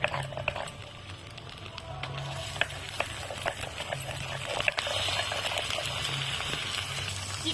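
Chicken pieces sizzling and bubbling in hot oil with onions fried until reddish-brown, a steady close frying hiss with soft stirring and clinks, for a Bengali methi chicken dish.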